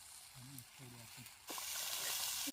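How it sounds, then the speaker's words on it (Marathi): Spices cooking for a crab curry crackle and hiss in a pan, a faint steady sizzle that swells louder after a woman's short speech, continuing close and even to the end. "बघा इथं मसाले शिजत घातल्यात"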